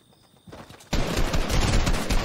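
Sustained rapid gunfire in the video game Fortnite, a dense loud burst of shots that starts abruptly after a few soft thuds and continues without a break to the end, close and alone.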